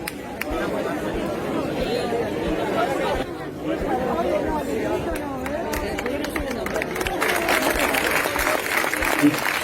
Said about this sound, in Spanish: Un aplauso fuerte para estos campeones.